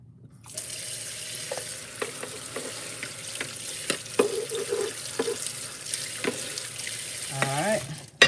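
Water running from a kitchen sink tap as melon is rinsed, a steady broadband hiss with clinks and thumps of handling throughout, ending in a rising squeaky rub.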